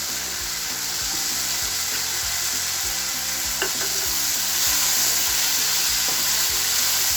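Tomato masala for chole bubbles and fries in a pan as the tomatoes melt down, giving a continuous close hiss with a low, regularly pulsing stir-and-scrape rhythm running steadily throughout.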